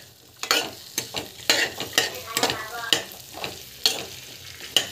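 Ingredients roast in plenty of ghee in a pan, a gentle sizzle broken by repeated close spatula scrapes and stirs at an irregular pace.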